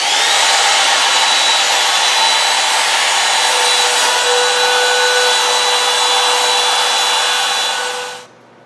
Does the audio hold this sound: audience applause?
no